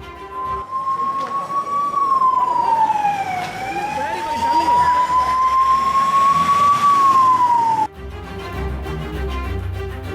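An ambulance siren wails near the Tiruchendur temple in Tamil Nadu, loud and close, its pitch rising and falling in slow sweeps for several seconds before cutting off abruptly.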